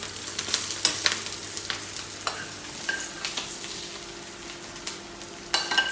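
Squid or seafood sizzling and spitting in a hot pan for squid ink pasta with tuna, with a steady frying hiss broken by sharp irregular pops and crackles, close and fairly quiet, with no voices.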